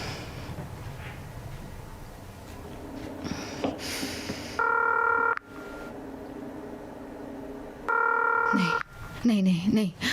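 Telephone keypad tones in a horror movie scene, two bursts of steady multi-tone beeping separated by a pause, with talk and other film sounds around them.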